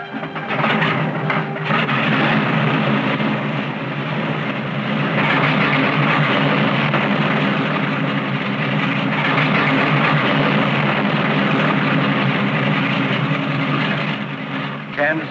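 Steady droning roar of a TWA airliner's engines in flight, loud and continuous throughout with a slight rise and fall, without talk.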